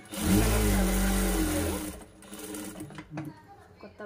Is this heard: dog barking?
no